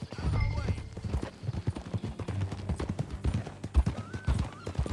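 Horse hooves clip-clop steadily at a ride pace in Red Dead Redemption 2, close and prominent, with a brief whinny and faint background sounds.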